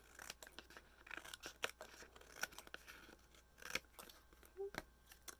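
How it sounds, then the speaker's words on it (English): Scissors trimming excess white card paper, a quiet series of irregular snips and crisp paper cuts, close and soft, with faint background noise. "I'm going to go ahead and trim off all my excess white pieces."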